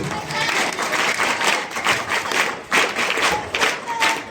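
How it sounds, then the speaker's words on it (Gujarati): A crowd claps loudly and steadily at a Gujarati comic dayro stage show. The dense applause runs for several seconds with small swells. "મારા માટે એક જોરદાર તાળી થઈ"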